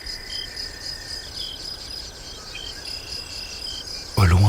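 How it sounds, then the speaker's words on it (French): Crickets chirp in a continuous high, even trill across a quiet outdoor night, with a sudden louder low thump at the very end. "Autour de vous, les grillons chantent."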